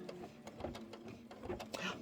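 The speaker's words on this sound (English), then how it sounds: "just hit start and stitch out those eyeballs" Embroidery machine stitching out eyeball designs, a quiet rapid mechanical chatter of needle strokes running continuously, with some speech-like sound mixed in.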